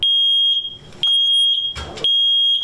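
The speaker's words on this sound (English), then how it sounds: "Members of Detroit Fire Department installing new smoke alarms at residents' homes." Detroit Fire Department smoke alarm being installed in a home, sounding a loud, piercing electronic tone in three bursts separated by short gaps, with some handling noise between them.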